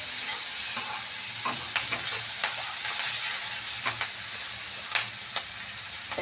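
Green chillies sizzling in hot oil in a pan, a close, steady crackle broken by repeated scraping and stirring taps, with no talking.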